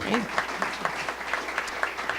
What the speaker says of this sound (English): Give Scott Young a round of applause